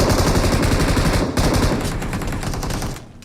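Loud, rapid automatic gunfire during a close-range fight in the mobile battle royale game BGMI, with dense continuous bursts for about three seconds that ease off slightly near the end.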